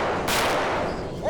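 A single sharp, loud gunshot burst cracks out, then a short noisy tail.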